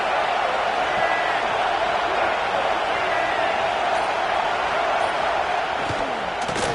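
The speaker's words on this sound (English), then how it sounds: "This crowd ready to make its presence known." Stadium crowd roar in a college football video game featuring Florida football, a steady, loud wash of cheering that fills the whole stretch with a brief sharper burst near the end.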